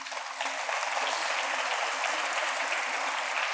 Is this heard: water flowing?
no